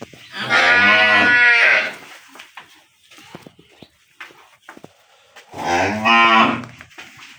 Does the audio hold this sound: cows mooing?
yes